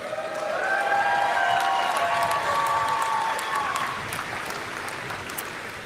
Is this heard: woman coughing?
no